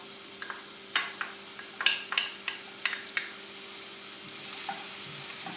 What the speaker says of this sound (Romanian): Punem uleiul la încins și când s-a încins adăugăm ceapa.